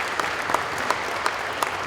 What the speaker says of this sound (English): Another round of applause for our Supervisor KeithCarson.